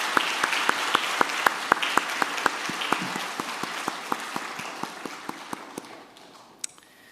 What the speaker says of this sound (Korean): 우리 중보기도 사역부 우리 성도님들을 위해서 격려와 감사의 박수 한번 좀 드렸으면 좋겠습니다